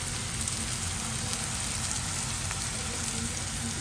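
A dish sizzles in a pan with a steady, even hiss close by, with no talking.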